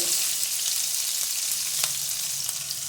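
Curry leaves and green chillies frying in hot oil for kobbari upma, a loud, dense sizzle with sharp crackles popping through it, close and continuous without any talk.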